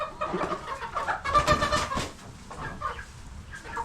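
Green-legged Partridge hens cluck and squawk in a windy henhouse, a busy overlapping chorus of close bird calls that swells in the middle and then thins to scattered clucks.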